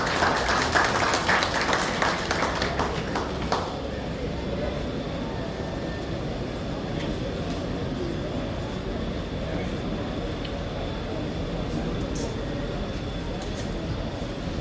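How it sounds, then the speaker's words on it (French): Brief audience applause for the mayor of Jérémie at the launch of Vaccination Week in the Americas, clapping heard for the first few seconds before giving way to a steady low hum and a loud room. "j'ai l'honneur d'inviter le maire de la commune de Jérémie, M. Onel Jacinthe, à prendre la parole. Je vous prie de l'applaudir"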